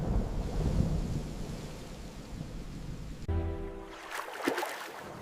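Cartoon thunderstorm during a great flood, with a steady wash of heavy rain that cuts abruptly to a louder, crackling thunder crash rumbling near its end.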